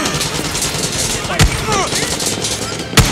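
Gunfire in the video game Far Cry 6: a couple of sharp, loud shots cracking out over a busy background of game sounds and voices, one near the middle and another near the end.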